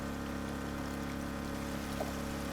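Water pours and streams steadily into a looping channel setup after a bucket is emptied, a continuous, fairly loud rushing flow with no pauses.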